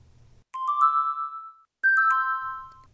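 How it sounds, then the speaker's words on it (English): Washing machine and dishwasher door-lock jingles, two short digital chime phrases of a few bright sustained tones each, separated by a brief pause, clear and close against quiet. "That is the digital jingle for a washing machine and dishwasher door, locking and unlocking."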